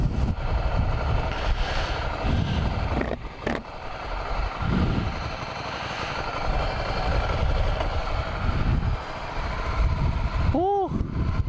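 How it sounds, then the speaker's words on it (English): A motorcycle engine warms up after a 7,500-mile service, a steady close rumbling idle with small swells in revs throughout and a brief higher whine near the end. "get the bike nice and warmed up."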